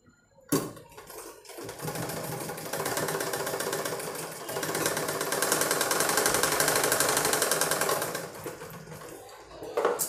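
A sewing machine stitches a lehenga in one fast, continuous run of rapid needle chatter that starts abruptly, holds steady for several seconds and then slows to a stop, close and clear with no talk.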